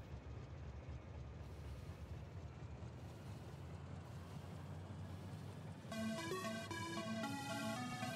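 Rolling train rumble from the factory-building game Factorio, a steady low continuous drone over roughly six seconds, then joined by a bright melodic chime pattern near the end, with no talk.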